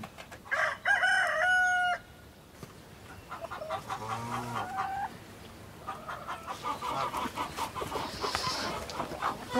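Chickens and a rooster at a mountain farm, one crow near the start followed by soft clucking and murmuring from the hens, close and clear with no talk.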